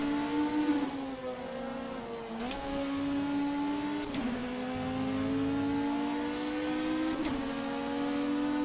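A BMW race car engine in a racing video game screams at high pitch, holding a steady whine with brief gear-shift dips, loud and continuous with no talking.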